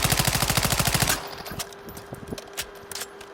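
A video game automatic gun fires one rapid, evenly spaced burst of about a dozen loud, close shots over roughly a second, then cuts off, leaving scattered faint distant shots and clicks.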